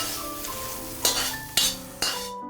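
Chili peppers are stir-fried in a wok over the highest flame, a soft continuous sizzle punctuated by three sharp metal clanks of the spatula against the pan near the end.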